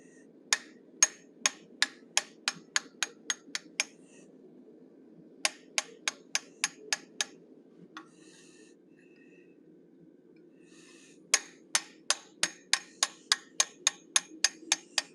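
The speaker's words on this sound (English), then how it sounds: "I'm going to open up the sockets for his eyes, and I'm using a teardrop shaped bob punch." Steady hammer blows drive a teardrop-shaped bob punch into hot iron, opening eye sockets on a forged animal head: three bursts of sharp, evenly spaced ringing strikes, close and clear, separated by short pauses.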